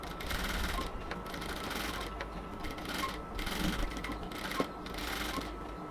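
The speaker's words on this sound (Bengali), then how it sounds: "পাইপিংয়ের পাশ দিয়ে আমি সেলাই করে যাব।" A sewing machine stitches alongside the piping on a cotton kameez neckline, with a steady, continuous whirring run and a few short breaks and clicks, close and moderately loud.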